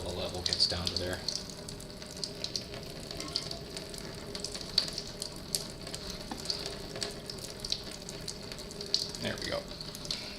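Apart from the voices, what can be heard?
coolant draining from Suzuki V-Strom 1000 motorcycle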